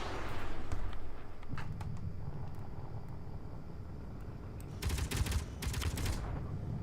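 Distant, muffled gunfire in the video game Space Engineers, a brief rattling burst near the end over a constant low engine-like rumble, with faint clicks earlier.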